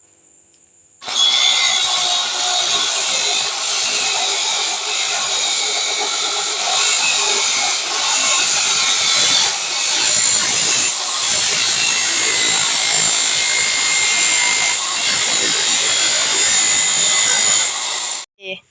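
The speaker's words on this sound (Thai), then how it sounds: "วันนี้ผมจะพามาตัดเหล็กหนาด้วยไฟเบอร์ โดยใบไม่แตกนะครับ" An abrasive fiber cut-off disc cuts through thick steel about two to three millimetres thick, a loud continuous high grinding screech that runs steadily for around seventeen seconds before stopping.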